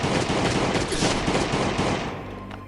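Rapid automatic gunfire from the survival video game Last Day on Earth rattles in a dense, loud continuous burst, tapering off at the end.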